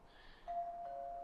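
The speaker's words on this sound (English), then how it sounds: "Could you stop ringing the bell" Doorbell chime in the horror game Ju-On The Grudge: a single clear ding sustained after a faint lead-in, quiet and alone.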